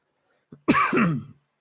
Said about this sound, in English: Sorry for the coughs, guys.